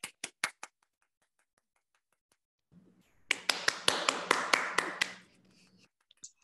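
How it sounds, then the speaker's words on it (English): A small audience at a poetry reading by the New Hampshire poet laureate claps briefly: a few sharp, close claps, a pause of near silence, then a short burst of scattered applause that fades out. "Want to applaud."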